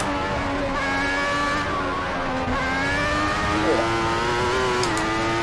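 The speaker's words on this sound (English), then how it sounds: "You still hear those cars behind me." Loud, continuous whine of several 1994 Formula 1 car engines racing at the German Grand Prix in Assetto Corsa, their pitches shifting as they rev and overlap, filling the whole stretch without any voices.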